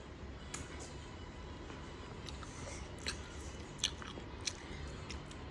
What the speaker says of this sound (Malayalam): വാ വാ, കടിക്ക് കടിക്ക് കടിക്ക്.